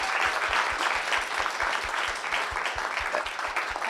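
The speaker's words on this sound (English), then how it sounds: "How about a round of applause for our panelists?" Sustained applause from an event audience for the panelists at an explorer award evening, a thick wash of many hands at moderate distance with a steady, fairly even texture.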